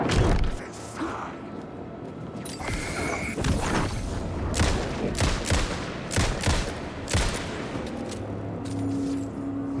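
Gunfire from a shooter in the video game Alan Wake 2: a run of loud, sharp shots in irregular bursts over a steady dark ambient bed, with brief pauses between volleys.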